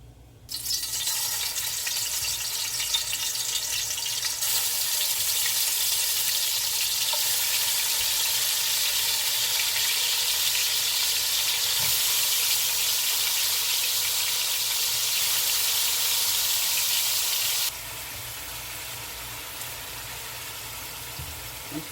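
Chicken gizzards frying in a little cooking oil in a pan, giving a loud, close, continuous sizzle that holds steady and then drops slightly in level near the end.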